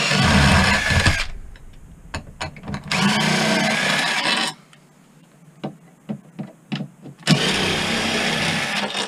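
A cordless drill with a socket drives off 5/16 anchor bolts on an air conditioner, with two loud whirring bursts of motor and some light clicks and taps between them.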